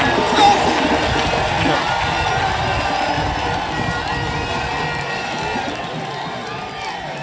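A congregation at a church deliverance testimony gathering cheers and acclaims, a sustained mass of raised voices and shouting that runs throughout at a steady level.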